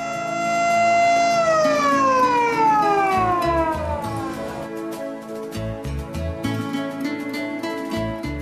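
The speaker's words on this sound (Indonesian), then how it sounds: "acara dilanjutkan dengan penompolan sirine sebagai tanda bahwa pembangunan mulai" A siren sounds at a groundbreaking ceremony for a rental apartment building in Tulungagung. A loud, steady wail holds its pitch, then slowly winds down over several seconds while low rumbling and scattered thumps carry on underneath.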